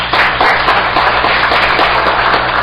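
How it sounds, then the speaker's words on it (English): Steady, dense applause from an audience thanking panelists at an industry CEO panel session, loud and continuous with many hands clapping at once and no talk. "let's give them a round of applause."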